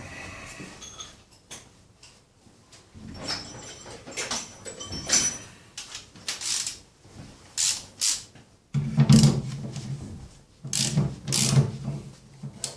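Ratchet wrench loosening a nut on a BMW E31 840Ci, heard up close as repeated bursts of quick clicking pawl strokes with brief pauses between, louder toward the end alongside some metallic handling noise.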